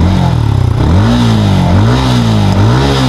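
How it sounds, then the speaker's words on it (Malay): A Yamaha Y16 motorcycle engine revs up and down in repeated rising and falling throttle blips, loud and close, with no talk. "Jom kita dengar bunyi enjin dia"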